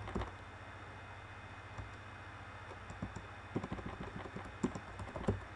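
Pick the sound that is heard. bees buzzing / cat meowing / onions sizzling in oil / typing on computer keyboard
typing on computer keyboard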